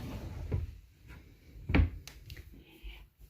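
A drawer in a guest bedroom slides open with a few wooden knocks and rattles, one sharp thump standing out near the middle, close and quiet with no talking.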